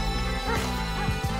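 A dog in GTA V gives short yips and whimpering barks, a few quick bursts close up over a dense game soundtrack.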